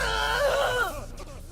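Enemies in a Batman Arkham video game scream together in a loud, wavering chorus of voices that fades into quieter groans near the end.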